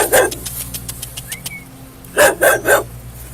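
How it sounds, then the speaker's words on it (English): A loose dog at a police scene where a burned body was found, barking three times in quick succession at mid distance after a stretch of faint clicks and background hum. "We have a loose dog that's around the scene"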